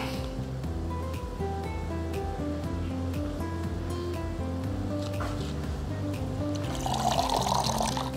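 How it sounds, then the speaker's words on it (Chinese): Water is poured over potted plants in a steady, continuous stream with a soft trickle, under a low humming background. The splash grows louder and brighter near the end. "浇水也简单也快"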